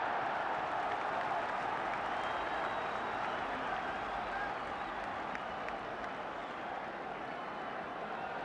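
A large football stadium crowd backing Wolves against Manchester United claps and cheers in a steady, dense wash of applause that holds at an even level throughout.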